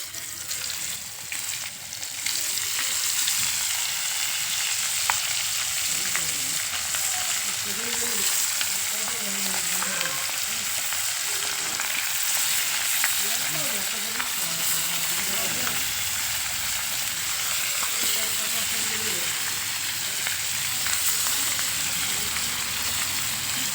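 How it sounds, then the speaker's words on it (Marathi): Chilapi fish frying in plenty of oil in a pan over a wood-fired clay stove on a farm, giving a steady, dense sizzle throughout with faint background sounds. "मासे तळायला तेल भरपूर लागतं."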